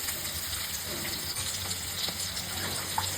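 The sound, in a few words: pouring a little water into spice paste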